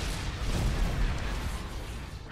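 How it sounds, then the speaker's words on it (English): A steady barrage of heavy blasts and rumbling video game turbolaser fire from Star Destroyers, dense and continuous with no pauses between shots. "Turbo lasers are firing"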